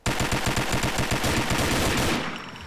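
Steyr AUG A3 rifle firing a rapid burst of about sixteen rounds, loud evenly spaced cracks in quick succession outdoors, ending in a brief fading echo.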